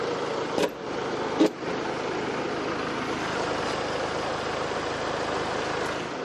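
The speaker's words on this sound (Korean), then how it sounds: "이 정도의 엔진 소음 만나보실 수가 있는 차량입니다." A diesel SUV engine idles with the hood shut, giving a steady, fairly quiet hum throughout, with two brief sharp clicks or knocks near the start.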